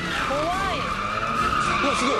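A car skids on a Japanese TV show, tires squealing in two wavering bursts over a constant engine and crowd-like background hiss, loud and close.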